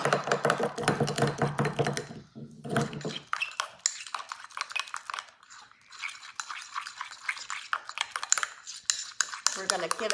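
A utensil stirs slime mixed with food coloring in a container, producing clinking, scraping bursts that come and go with brief pauses between.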